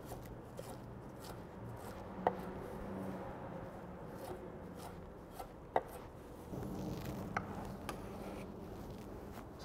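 A knife mincing equal parts parsley and mint leaves for a chimichurri, with steady soft chopping taps on a board and a few sharper knocks, heard alone at moderate, close range.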